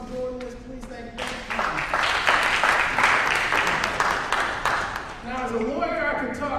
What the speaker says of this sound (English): Give you all yourselves a round of applause for doing this.